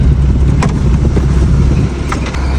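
A Suzuki Mehran car engine idles loudly right after starting, giving a steady low rumble from close by inside the car with a few faint clicks and no talking.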